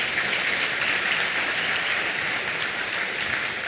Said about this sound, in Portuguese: Aplauda a palavra do Senhor,